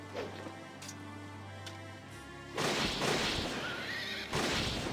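Horse whinnies in the video game Fire Emblem Radiant Dawn, a loud, rough neighing burst followed by a second cry, over a low game background hum.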